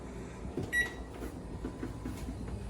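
A preheated home oven door clicks and thuds shut after a pizza goes onto the top shelf, a brief clunk near the start of the clip, followed by a low steady hum with faint bumps.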